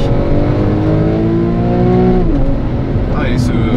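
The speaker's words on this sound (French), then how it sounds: "ce coup assez violent au passage de vitesse, je m'y attendais pas" A 408-horsepower Porsche 911 Carrera GTS weighing 1555 kg, its engine revving loud and near under a voice, pitch rising steadily before a sharp drop at a harsh gear shift, then building again.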